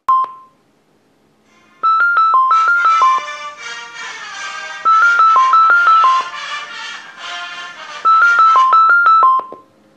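A phone ringtone plays through an iKANOO Bluetooth speaker, a loud, bright electronic melody repeating in three bursts with short gaps between them.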